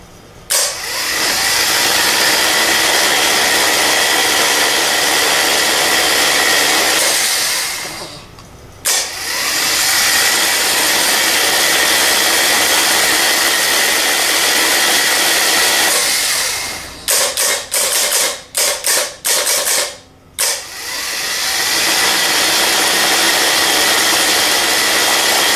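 A rebuilt 37MT starter motor runs with a steady, loud mechanical whine, cuts out briefly, then returns, stutters in several quick bursts, and resumes at full speed.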